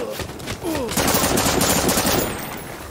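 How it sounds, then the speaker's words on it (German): Rapid machine-gun fire in the first-person shooter game 41 Hours, a loud continuous burst of close shots with a voice talking briefly at the start. "Frage, von wo kamen die Schüsse jetzt?"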